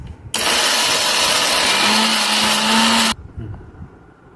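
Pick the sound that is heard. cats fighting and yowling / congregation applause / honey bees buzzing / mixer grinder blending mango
mixer grinder blending mango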